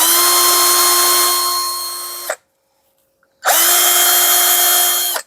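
A Doliz BD-61 cordless drill runs loudly at speed 2 with a steady high whine, stops briefly into near silence for about a second, then spins up again and keeps running at full speed.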